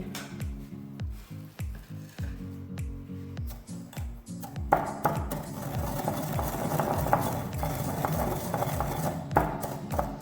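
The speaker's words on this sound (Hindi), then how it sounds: "मेथी दाने को भी हमने अच्छी तरह कूट लिया हुआ है मोटा मोटा।" Fenugreek seeds are pounded coarsely for a green chilli and lemon pickle, making fast, regular thuds and crunches close by that grow denser and grittier partway through, with no talking.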